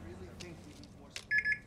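Badge swipe at an office door in the Spider-Man 2 video game: a short pair of electronic beeps near the end, following a few soft clicks, over quiet background ambience.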